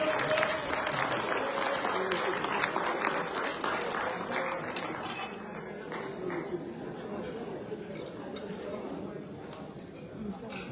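Dense audience applause fills a reunion banquet hall at a high school awards ceremony, loud and sustained throughout and tapering slightly toward the end, with crowd chatter mixed in beneath.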